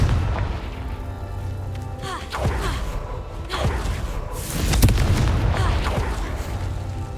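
Confringo fire spells exploding in Hogwarts Legacy, several booming blasts and whooshes over a steady rumble, the loudest near the middle.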